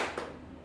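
Audience members in a university teacher-training classroom give a single hand clap, a quick close burst of slapping palms followed by a softer trailing clap and room noise.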